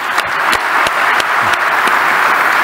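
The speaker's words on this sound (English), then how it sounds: "a big applause to Saudi women" Steady applause from a conference audience at a future-focused investment forum panel, dense and sustained clapping with a few sharper claps standing out, continuous throughout.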